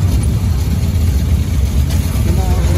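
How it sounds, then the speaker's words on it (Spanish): A café racer motorcycle engine idles close by in a workshop with a steady, low rumbling throb that holds even throughout. "la moto suena fina, fina"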